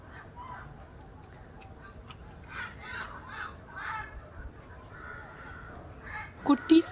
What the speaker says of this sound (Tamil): வெறும் பேர்ட்ஸ் சவுண்டு மட்டும் கேட்டுட்ருக்கு